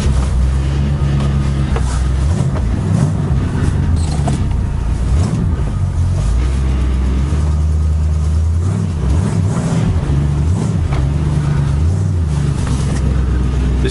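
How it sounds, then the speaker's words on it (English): The engine of a 1965 Ford station wagon drones steadily from inside the moving car, a loud low hum that swells and eases slightly with the throttle, with no talking. "This car's kind of weird to drive,"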